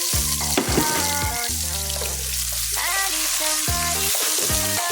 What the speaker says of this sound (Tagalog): Lagay na natin yung ating 2 pirasong sibuyas